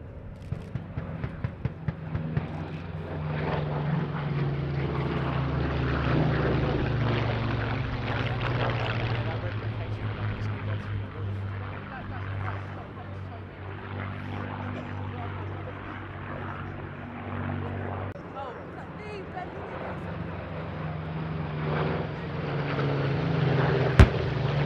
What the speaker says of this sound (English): P-47 and the Spitfires are now off to resume their cab rank patrol